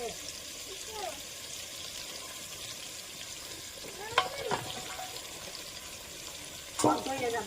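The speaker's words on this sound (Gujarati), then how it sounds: "પછી આપણે આ રીંગણા છે ભરેલા એ બધા નાખી દઈશું એક એક કરીને।" Whole stuffed eggplants go into a pan one by one, giving a low, steady sizzle of frying with a couple of sharp clinks and knocks as pieces are placed.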